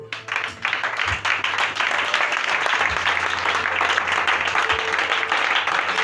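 Church congregation clapping together in acclaim of Jesus at a Pentecost service, a dense, loud and steady wash of many hands that runs unbroken from start to finish.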